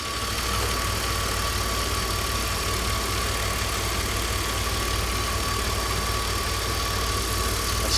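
A BMW E46 330i with the M54B30 inline-six idles steadily with a faint rattle mixed into the broadband engine hum, recorded up close for the whole stretch with no one talking.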